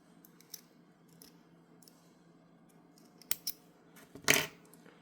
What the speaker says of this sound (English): I'm just gonna cut this.